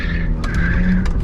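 A BMW E46 on coilovers drifting, heard from inside the car as a steady engine drone under a sustained, whining tire squeal, loud and continuous with no talking.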